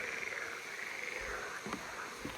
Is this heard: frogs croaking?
yes